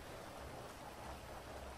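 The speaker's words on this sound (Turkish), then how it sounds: "Havada yağmurlu." Steady rainfall in the video game GTA V, a soft and even wash of raindrops that continues without a break at low volume.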